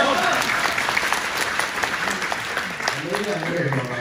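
An audience claps steadily and loudly at a Deyunshe crosstalk show in Tianjin, the applause filling the space continuously while a performer's voice breaks through toward the end.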